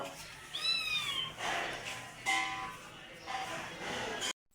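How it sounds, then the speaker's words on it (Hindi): A pet cat named Mano gives several clear, close meows, three distinct calls spaced about a second apart against a quiet room. The sound cuts off abruptly at the end. "मानो भी मियाओ करके कह रही है"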